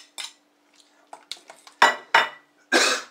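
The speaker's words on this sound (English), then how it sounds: "I'm just going to mash it a little bit so it's flaked, and then just put it into the soup" Defrosted cod being mashed and flaked in a kitchen, heard as a few short scraping, clinking bursts of utensil against a pot or dish, growing louder and longer toward the end with quiet gaps between.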